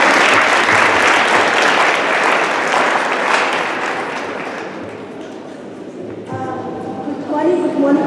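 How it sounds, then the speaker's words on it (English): Crowd gives a round of applause at a career fair in Keetmanshoop, dense loud clapping that gradually thins and fades, with a voice starting to speak near the end. "Can you please get a round of applause?"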